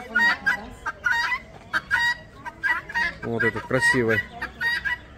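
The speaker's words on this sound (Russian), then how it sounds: "Петухи, сейчас покажем." Roosters crow and cluck in short, loud bursts close by at a zoo, with a brief spoken remark mixed in among the calls.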